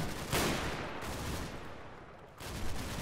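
Pistol gunshots in the World War II game Combat Mission: Battle for Normandy, a few sharp cracks spread across a noisy battlefield backdrop, with one strong report early and another burst near the end.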